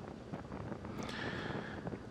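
Steady gusting wind buffets the microphone on an open hillside of wild reeds at Rowena Crest, Oregon, a continuous rough roar with no clear breaks.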